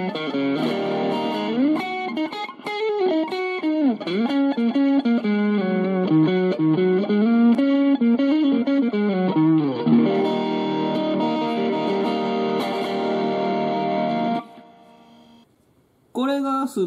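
Electric guitar played through an overdrive pedal set to maximum gain, a loud, continuous stream of saturated distorted chords and riffs that cuts out near the end before a last brief strum.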